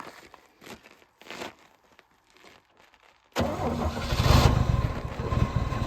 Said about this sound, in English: She fires right back up.